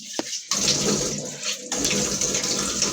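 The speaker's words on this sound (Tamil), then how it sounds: "அம்மா ஃபர்ஸ்ட் ஃபேஸ் வாஷ் பண்ணுங்கம்மா" Running water splashes continuously at a sink as someone washes their face, with brief pauses and bursts of flow in a domestic bathroom setting.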